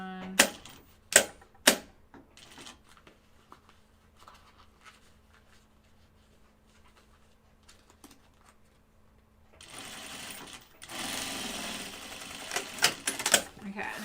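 A home sewing machine stitching a Pocket Bucket bag makes scattered clicks and handling taps, goes quiet for a stretch, then whirs into a loud, steady burst of stitching near the end.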